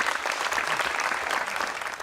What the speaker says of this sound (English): Let's give all those sponsors a nice round of applause.